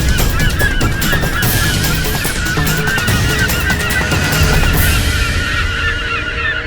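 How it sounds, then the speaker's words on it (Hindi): A whole flock of geese-like birds honks continuously as it approaches over a mountain setting, a loud, dense chorus of overlapping calls that fills the scene with no speech. "पक्षियों का समूचा झुंड आ रहा है।"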